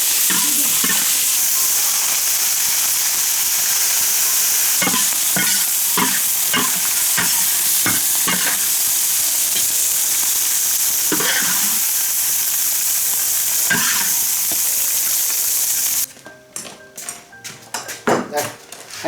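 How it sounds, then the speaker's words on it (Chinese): Pork fat sizzles and spatters steadily in a hot wok, a loud dense frying hiss with occasional scraping stirs and metallic clinks, thinning into sharper pops and spatters toward the end. "那煎油脂了吗？"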